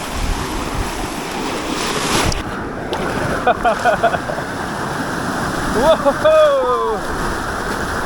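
Hoses shooting water across a river at passing river goers, a steady rushing spray with wind over the microphone, while a voice exclaims in surprise near the end.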